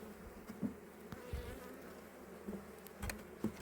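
Honeybees buzz around an open hive during a spring inspection, a faint steady drone with brief louder passes of single bees close by, under a quiet outdoor background.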